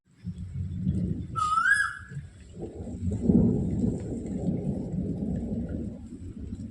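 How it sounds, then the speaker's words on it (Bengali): Low rolling thunder rumbles on and off over steady rain on a dark, cloudy morning, with a brief high whistling call rising above it early on. "কি সুন্দর বৃষ্টি পড়ছে"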